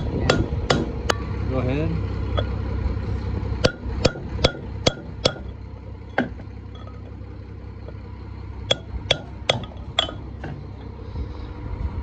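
A brass punch is hammered to drive a bearing race out of a trailer hub, giving sharp metallic strikes in irregular bursts of several blows with pauses between them, close by, with a brief exchange of voices.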